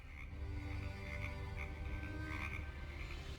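Frogs croaking in a swamp in the game Preston Sterling, a dense, steady chorus of repeated croaks and trills over a low constant background hum.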